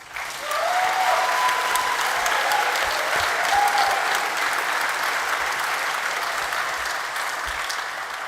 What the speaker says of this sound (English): Graduates, give yourself a round of applause.